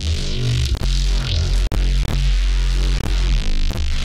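Bitwig software synth preset Portal Food 1 with heavy effects, a loud, dense, throbbing electronic texture with a deep sustained low end, gritty upper noise and several abrupt momentary dropouts, without voices.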